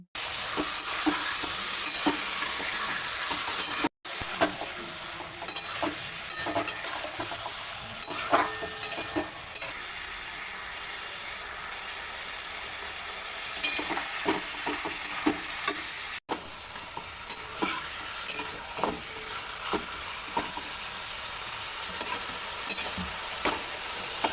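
Mutton frying in a pan to cook off its moisture, a steady close sizzle with frequent scraping stirs and clinks of the spoon, continuous throughout with no talk.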